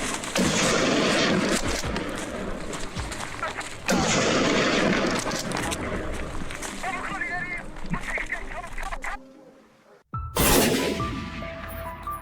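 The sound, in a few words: gunshots echoing during wild boar hunt on mountainside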